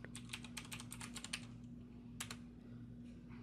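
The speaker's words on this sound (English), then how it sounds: "Now I got to put in Bob's password" A password typed on a computer keyboard, a quick burst of crisp keystrokes followed by a short pause and a final pair of taps, faint over a low steady hum.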